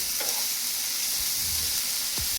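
Vegetables for a veg starter stir-fried in a pan, loud steady sizzling with a few scraping stirs of the spoon, close by and without talk.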